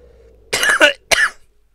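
A single character in the video game Half-Life: Opposing Force coughs twice in quick succession, loud and close, after a faint low hum.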